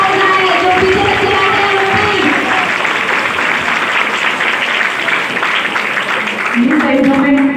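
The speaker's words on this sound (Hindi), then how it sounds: "जोरदार तालियां हो जाए" A crowd at a Republic Day speech event breaks into loud applause and cheering, with a sustained burst of clapping and tonal voices audible at the start and end.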